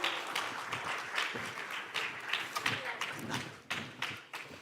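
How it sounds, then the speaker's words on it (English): A conference audience in Istanbul applauds with a dense patter of clapping and some louder bursts, continuing steadily for several seconds. "Big applause for these guys."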